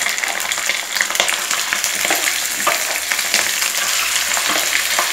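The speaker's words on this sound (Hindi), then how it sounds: "और अब हम इसमें अपने चिकन को कलर चेंज हो जाने तक फ्राई कर लेंगे।" Chicken pieces frying with lightly browned onions in a pan, giving a loud, dense, continuous sizzle with frequent crackles and some stirring scrapes, close up, with no talk.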